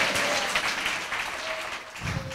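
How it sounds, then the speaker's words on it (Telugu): A church congregation clapping during a pastor's sermon, a steady wash of many hands applauding at moderate loudness that eases briefly before picking up again. "చప్పట్లు కొట్టండి, చప్పట్లు కొట్టండి, చప్పట్లు కొట్టండి."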